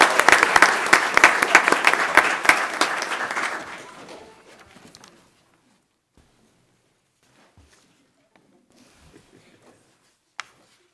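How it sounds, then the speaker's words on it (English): Audience applauding at a city commission meeting, a burst of loud clapping that thins out and fades to silence after about five seconds, with a few faint rustles afterward. "Let's give our first place winner, another round of applause."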